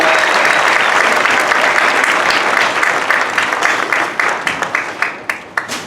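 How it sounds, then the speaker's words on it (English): Loud, sustained applause from a large crowd at a 2022 Saddle Brook High School graduation ceremony, dense clapping that thins into scattered individual claps near the end. "Can we give them another round of applause?"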